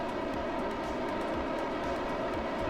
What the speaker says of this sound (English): Discovery, go and throttle up.